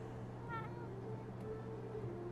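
A cat gives a single short meow over a steady low hum, with faint background noise continuing afterward.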